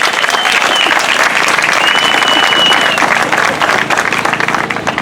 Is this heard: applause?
yes